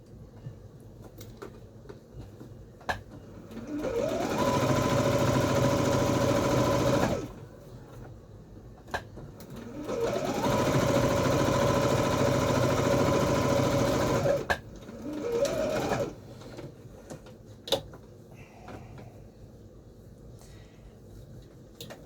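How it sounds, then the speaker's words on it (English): A sewing machine stitching along the crotch seam of fabric shorts, with two sustained bursts of fast, even whirring and needle clatter separated by a pause, then a brief short run and small handling clicks nearby. "do a reverse stitch over that, just so there's a little bit more sewing there, because it can split that bottom crotch point"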